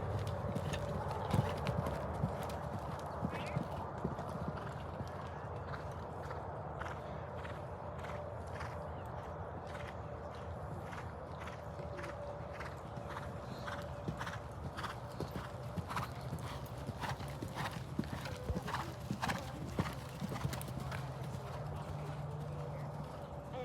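Horse hooves clip-clop in a steady rhythmic canter during an eventing group lesson, moderately distant in an open arena, with an occasional whinny and a coach talking intermittently over the hoofbeats.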